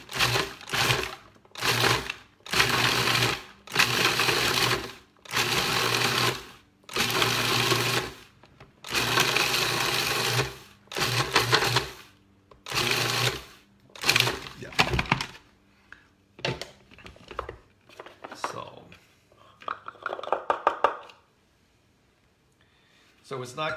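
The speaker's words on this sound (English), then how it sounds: "So we just pop that into the food processor as well." Food processor pulsing diced butter into a rhubarb crumble mix: about ten loud, even bursts of motor whir, each a second or so with short gaps, then quieter scattered clatter and handling noise.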